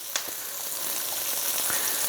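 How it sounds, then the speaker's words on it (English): A flat iron steak sizzles loudly in a hot pan, a constant close frying hiss with a few sharp pops and crackles and no voices. "As soon as I added that, it started sizzling and not smoking."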